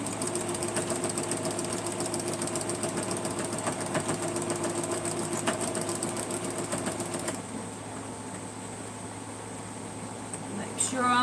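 A sewing machine stitches a quilt in a continuous, even mechanical buzz for about seven seconds, then cuts off, leaving a quieter hum with a brief clatter at the end.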